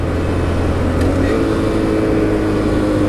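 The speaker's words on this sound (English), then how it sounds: "Oh, wow, that's revved up high." A 2014 Honda Grom 125 motorcycle engine holds at high revs, a loud, dense buzzing drone heard up close and steady throughout with no voices.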